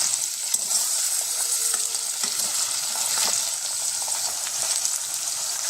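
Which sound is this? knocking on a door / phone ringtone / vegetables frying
vegetables frying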